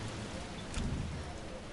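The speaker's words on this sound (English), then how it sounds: "rain coming down that hard is amazing" Heavy rain pours down in a video game, a dense, steady wash of noise that fills the whole stretch, close and loud, with no talking over it.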